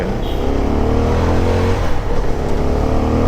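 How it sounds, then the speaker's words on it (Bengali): A CF300SR 300cc motorcycle engine runs on Dhaka streets, held steady near 5000 rpm with a loud, continuous, smooth drone and close road rumble, with no talking. "এই যে পাঁচ হাজার আরপিএমের কাছাকাছি যখন যায় বাইক তখন অনেক স্মুথ থাকে"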